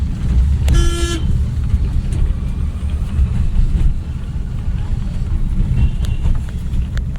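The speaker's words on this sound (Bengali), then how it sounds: "হর্ন দাও শুধু একবার।" A car horn gives one short toot during a driving lesson, loud over the steady rumble of the engine and road noise inside the moving vehicle.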